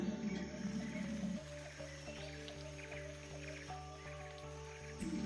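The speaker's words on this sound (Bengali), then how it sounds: "শাকটাকে ভালো করে ধুয়ে নিচ্ছি।" Malabar spinach leaves squished and swished by hand in water before cooking with prawns, giving soft wet squelches and drips close by under a steady background hum, without talk.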